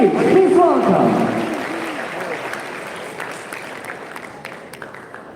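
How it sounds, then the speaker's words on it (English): Audience applause at a youth model UN event in Malaysia as a Lebanese participant takes the stage, loud at first under a voice, then thinning to steadier, quieter clapping that continues throughout. "Please join me in giving him a big round of applause as they take the stage"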